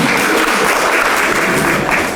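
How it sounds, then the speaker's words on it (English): A church audience breaks into steady, dense applause indoors at a parish meeting, a continuous wash of clapping hands filling the whole moment without a break. "We knew we'd get an applause line."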